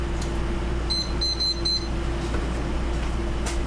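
A new kitchen timer gives a quick run of four or five short, high, electronic beeps as it is set for baking mini donuts. The beeps sound near and clear over a low background hum.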